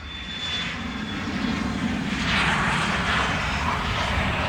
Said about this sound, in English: as that plane departs